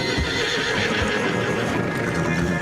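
A horse neighs and whinnies in a Western video game, a loud close whinny over steady hoof clip-clop and dense outdoor ambience, with no talking.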